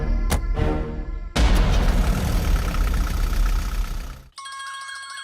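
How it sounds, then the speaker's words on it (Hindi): A phone ringtone starts as a short, bright electronic melody right after a loud, rumbling wash of noise suddenly cuts out. The ring plays alone and fairly faint. "अरे फोन है।"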